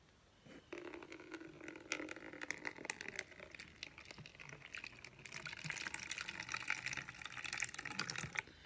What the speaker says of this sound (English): I'm going to put hot water in this bowl